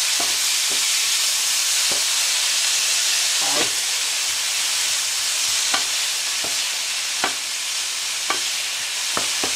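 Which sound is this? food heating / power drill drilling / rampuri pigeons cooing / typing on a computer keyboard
food heating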